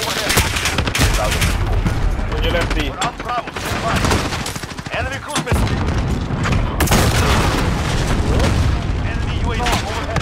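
In a Call of Duty: Modern Warfare multiplayer match, loud rolling booms of an explosion mix with rapid bursts of gunfire, dense and continuous, while in-game voice callouts speak over the battle.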